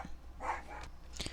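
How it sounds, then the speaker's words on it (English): A few dogs bark in the background, with two or three short, somewhat distant barks standing out over a low steady hum. "Sorry about the dogs barking"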